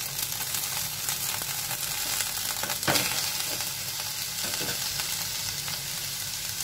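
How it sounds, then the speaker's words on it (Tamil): Onions and tomato sauté in a pan for paruppu urundai kuzhambu, with a steady, close sizzle and crackle, broken by occasional scrapes of stirring. "இதையும் சேர்த்து நல்லா வதக்கிக்கலாம்"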